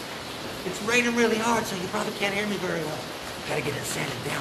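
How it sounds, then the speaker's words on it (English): Heavy rain hisses steadily in the background while someone speaks briefly over it. "It's raining really hard"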